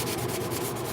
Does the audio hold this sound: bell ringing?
no